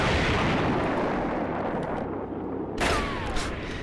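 Tank shell explosions on snowy ground in a video game, a dense continuous rumble of heavy blasts with a sharper burst near the end, loud and close.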